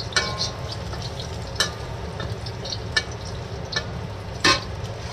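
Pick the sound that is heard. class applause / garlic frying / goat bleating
garlic frying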